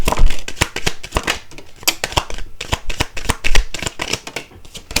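Tarot cards shuffled by hand, a rapid, close, crisp run of riffling flutters and slaps that keeps going throughout with no talk.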